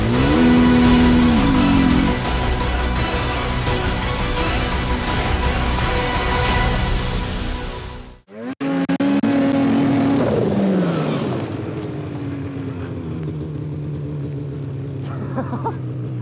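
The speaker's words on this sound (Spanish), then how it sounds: "es hora de ver cuál es la moto más rápida sobre nieve. ¿Qué ganará? ¿Una snowmobile o una snowbike?" A snowmobile and a snowbike race across snow, engines roaring loudly with rising and falling revs, a short cut to silence midway, then another high-revving run fading into a lower drone.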